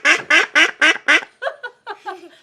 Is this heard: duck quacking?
yes